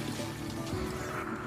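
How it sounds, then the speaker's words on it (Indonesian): A water tap left running indoors in the film Pihu gives off a steady, continuous splashing flow at moderate loudness, with no talking over it. "Pihu mendengar suara keran air yang masih menyala"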